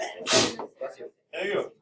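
A single sharp sneeze bursts out loudly near the start of a classroom algebra lesson, followed by a person speaking a few words close by.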